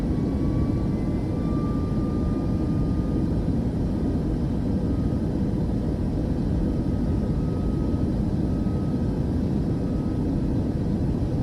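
Airliner engines at takeoff power in Microsoft Flight Simulator 2024, a loud, steady broadband roar with a faint high whine running through, continuous throughout with no speech.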